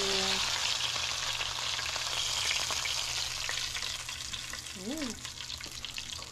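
Chicken for a Popeyes-style sandwich fries in hot oil with a continuous crackling sizzle that eases slightly toward the end, heard close and without talk.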